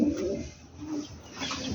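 A newly acquired pigeon coos softly and closely in a few low, rolling phrases with brief pauses between them.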